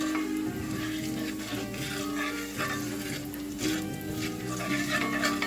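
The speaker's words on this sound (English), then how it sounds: "let that go, just let the garlic cook" Chopped garlic sizzles steadily in a hot pan over medium heat, a dense, even crackle with faint stirring scrapes running continuously throughout, no voices.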